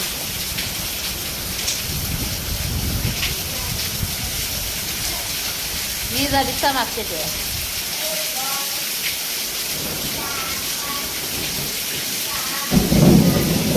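Heavy rain pours steadily in a village, with rumbles of thunder rolling through and a louder crack near the end, while someone talks briefly over the downpour.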